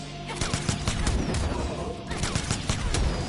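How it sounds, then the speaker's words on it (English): Jacqui firing rapid shots and rockets in a Mortal Kombat fighting game, a burst of sharp gunfire bangs followed by rocket blasts with crashing impacts, loud and dense, repeating in quick volleys. "she has a pause after 4 shots before shooting the rockets"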